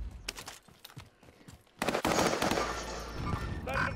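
A gas gun fires in Call of Duty Warzone on Caldera: scattered shots come first, then a loud, sustained burst of rapid gunfire that stays up close until the end.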